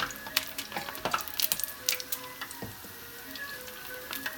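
Mikate dough fritters fry in oil over a charcoal stove, giving faint irregular crackles and pops with scattered sharp sizzling ticks and no voices.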